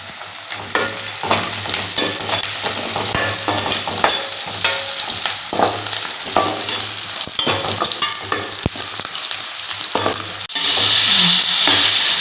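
Chana dal, onion and green chilli sizzle steadily in hot oil in a pan, with repeated scraping stirs over a continuous frying hiss that grows louder near the end.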